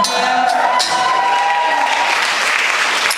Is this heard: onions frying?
no